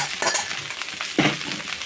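Rice sizzling and frying in a pan, with the scrape of a spatula stirring it in a few bursts, close up.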